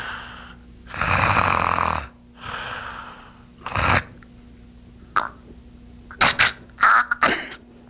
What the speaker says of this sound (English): But if you snore and stop breathing,